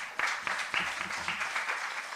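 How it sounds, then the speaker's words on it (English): An audience at a live-streamed Jamaica Accountability Meter portal event breaks into brief applause, a soft, fairly distant patter of clapping heard for a couple of seconds. "We really have to applaud Carol because"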